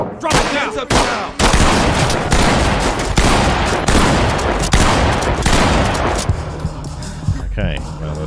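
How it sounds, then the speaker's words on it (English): Rapid gunfire in the tactical police shooter Ready or Not, loud sustained bursts of shots across the whole stretch, with voices shouting and talking underneath. "there's somebody in there, and they've shot me"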